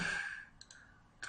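A few soft, sparse computer mouse clicks, spaced apart in a quiet room after a brief fading hiss.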